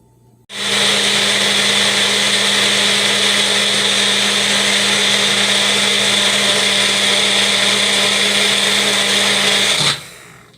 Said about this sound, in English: We're gonna put our lid on and blend.